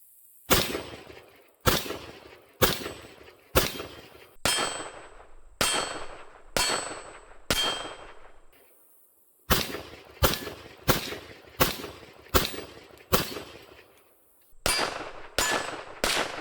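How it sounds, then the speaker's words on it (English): CCI Maxi-Mag .22 Magnum rounds fired from a Kel-Tec PMR30 pistol strike an AR500 steel hostage target, giving sharp, evenly spaced shot-and-clang bursts in two strings of about ten, loud and close, with no talking. "next we're gonna do 22 mag out of the Caltech PMR30"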